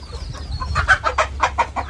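Desi country chickens in a farm shed, clucking in a quick run of short, close, fairly loud calls over a low background murmur.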